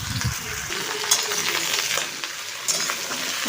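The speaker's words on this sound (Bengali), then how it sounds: "ভাজা হয়ে গেছে, আমি এবার দিয়ে দিলাম কেটে রাখা পটল আলু একসাথেই দিয়ে দিলাম" Pointed gourd and potato pieces sizzling in hot oil with cumin, a steady close frying hiss with sharp metallic clinks as a spatula stirs against the pan.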